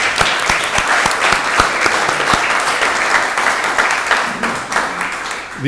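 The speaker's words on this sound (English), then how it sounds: "Let's give them a round of applause." A crowd at an alumni awards ceremony applauds steadily and loudly throughout, dense clapping with a few sharper individual claps standing out.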